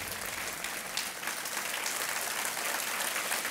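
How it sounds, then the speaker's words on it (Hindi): A studio audience on a televised quiz game show applauds, a dense, even wash of clapping that holds steady and fairly loud throughout without a break. "तालियां बजती रहनी चाहिए देवी और सज्जनों।"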